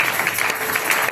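A church congregation applauding during a thanksgiving service, a brief, dense wash of clapping that holds steady throughout.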